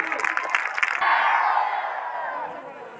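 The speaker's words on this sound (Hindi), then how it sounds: "जोरदार क्लैपिंग भाई है। ग्राउंड से बाहर आवाज जानी चाहिए तालियों की।" A school crowd at a senior secondary school function cheers loudly with shouts and whoops, and a burst of clapping comes at the start before sustained cheering voices carry on alone.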